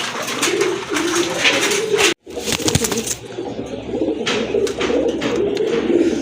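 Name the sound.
Madrasi Gola pigeons cooing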